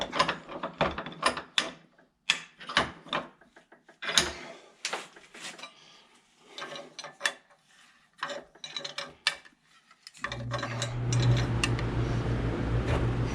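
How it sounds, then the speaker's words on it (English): Someone works on a part from a John Deere B tractor engine in a vise, with close, irregular clicks, ratcheting and metallic clatter, then a steady low hum takes over for the last few seconds. "So, we'll put that right in the vise and we'll tighten up that."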